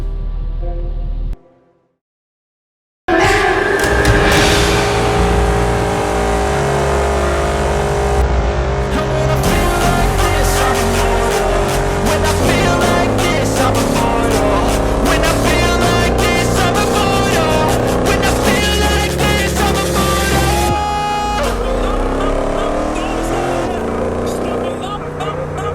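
A 2016 Mercedes-Benz SL65 AMG Black Series in the Assetto Corsa racing game, its engine revving loud and close through long acceleration runs with shifting pitch, after a brief silent gap near the start.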